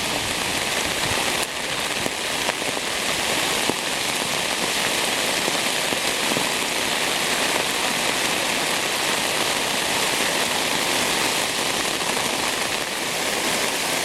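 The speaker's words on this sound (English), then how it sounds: "it is just like sheets of rain out there." Heavy rain pours down in a loud, steady roar at Celina Lake in Hoosier National Forest, with dense drops hitting surfaces and no voices.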